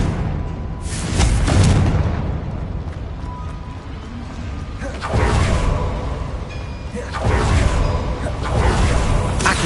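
Confringo fire spell blasts in Hogwarts Legacy, cast in a small mine: three loud booming bursts with whooshing tails, spaced a few seconds apart over continuous game ambience, with no talk during them.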